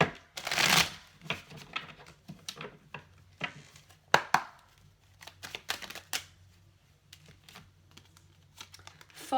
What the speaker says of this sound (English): I'm going to shuffle that again because it feels like it needs another shuffle.